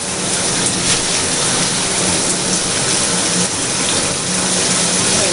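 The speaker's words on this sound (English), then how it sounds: "Now I'm rinsing it out." A steady, loud rush of tap water runs over hair while a hair product is rinsed out, an unbroken spray with no talking.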